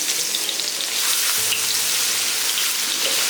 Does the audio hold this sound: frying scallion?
yes